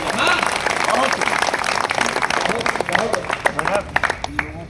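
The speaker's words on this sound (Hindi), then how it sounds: "जोरदार तालियां होनी चाहिए।" An audience claps at a recital of verses devoted to mothers and daughters, a loose round of applause mixed with a voice talking over it, tapering into scattered claps.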